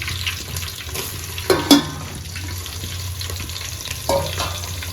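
Onion frying in hot oil with cumin seeds and green chillies in a Gujarati wafer curry, a steady close sizzle with a few sharp clinks of a spoon against the pan and brief stirring scrapes.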